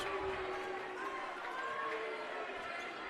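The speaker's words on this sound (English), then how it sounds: "you hear the boos out of the crowd" A crowd at a basketball game boos, a continuous, fairly faint mass of voices spread through a gym with a constant hubbub and no clear single speaker.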